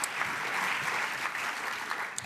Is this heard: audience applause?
yes